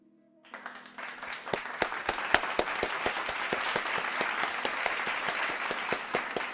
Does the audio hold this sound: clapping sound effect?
yes